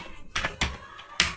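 Four or five separate key presses on a computer keyboard while a password is entered on a Windows server, each a short, crisp tap spaced irregularly, close and clear with no talking.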